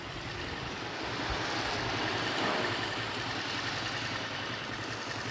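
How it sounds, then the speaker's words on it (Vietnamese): A rebuilt motorcycle engine idles smoothly and softly, a steady low whisper of running with no knocks or whines, heard alone at close range. "Đây mọi người nghe tiếng máy nha."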